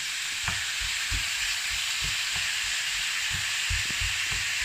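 Meat browns in a pot for spicy chili, giving a constant close sizzle with soft, regular spoon knocks and stirring thuds throughout, and nobody speaks.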